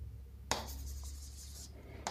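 Quiet stylus strokes on a Samsung Flip digital flipchart touchscreen, a soft rubbing scratch between two sharper taps, close and faint.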